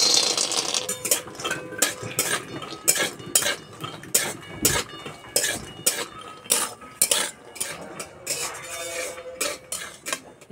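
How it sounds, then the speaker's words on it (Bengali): Peanuts fry in a little white oil in a kadai while a metal spoon stirs them, producing rhythmic clinks and scrapes against the pan above a low sizzle, close up, with no talking. "এবার বাদাম ভেজে নেব।"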